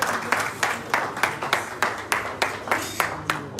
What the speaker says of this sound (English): Can we have a round of applause, please, for Mrs. Divine?